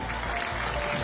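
A crowd at an evening Maal Hijrah celebration in Putrajaya applauds loudly and continuously, a dense wash of clapping with no gaps.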